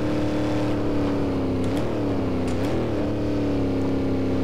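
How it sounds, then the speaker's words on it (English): A loud, continuous V8 engine drone from a Shelby Cobra in the racing game Assetto Corsa at the Nordschleife, deep rumbling tone, briefly dipping and rising in pitch as if shifting gears, close and unbroken. "one of the best sounding V8s, I think, within sim racing"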